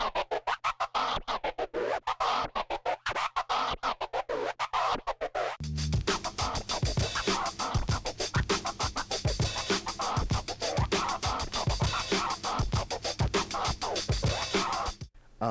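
A DJ performs transform scratches on a turntable record, the sound chopped into rapid, regular on-off stutters as the record is pushed back and forth, loud and close throughout with a denser passage in the second half.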